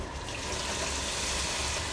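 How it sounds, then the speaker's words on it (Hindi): A little water is poured into a pan of spinach and potato masala, giving a soft, continuous splash and sizzle at close range. "तो यहाँ पे मैं थोड़ा सा पानी ऐड कर देती हूँ ताकि मसाले जले"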